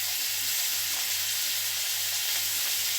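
Cumin and turmeric sizzling in hot oil in a pan, a constant close frying hiss with faint stirring underneath and no talk.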